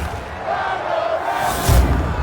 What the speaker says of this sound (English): I'm just surprised to hear all the crowd chanting for Ronda right now.